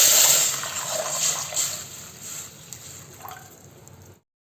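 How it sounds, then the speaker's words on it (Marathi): Water is poured into a hot pot of oil with bay leaves and cinnamon for prawn biryani, giving a loud splashing hiss that gradually settles and fades before stopping abruptly. "आता यामध्ये लगेच पाणी घालून घेऊया।"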